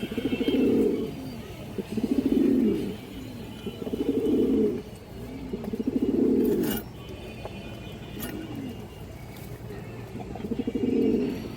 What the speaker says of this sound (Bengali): এটা সিলভার মাদি কবুতর।